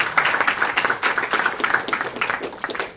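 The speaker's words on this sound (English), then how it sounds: "A big round of applause for David." Steady audience applause after a talk at a crypto investor conference, dense and fairly close, holding for a few seconds without fading.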